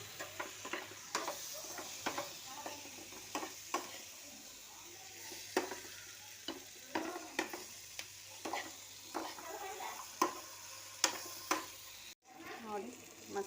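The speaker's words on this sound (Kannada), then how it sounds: "ಚೆನ್ನಾಗಿ ಫ್ರೈ ಮಾಡಬೇಕು" Garlic and soaked soybeans fry in a pan, a steady sizzle broken by frequent sharp scrapes and clinks of a spoon stirring against the metal, close and fairly loud throughout with a brief dropout near the end.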